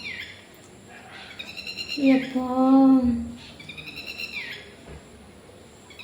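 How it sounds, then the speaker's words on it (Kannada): A peacock from a group of five gives a loud, drawn-out, wailing call in the middle, with shorter nasal calls around it. A person makes a brief exclamation nearby. "ನವಿಲು ನೋಡಿ"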